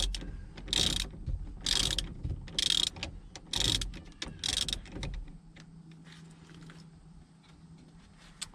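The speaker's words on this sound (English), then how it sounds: "Just loosen this bolt up." A ratchet wrench loosens the steering wheel bolt on a street truck, giving five quick, close clicking bursts in a steady rhythm before it goes quiet.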